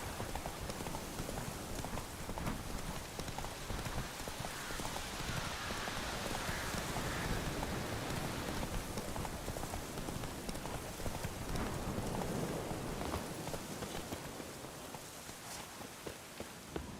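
Steady heavy rain pours down continuously in The Witcher 3, a dense hiss of drops that eases slightly near the end, with no voices.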